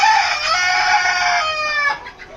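Rooster crowing loudly and close in a backyard poultry aviary in the afternoon, one long drawn-out call that fades out at the end.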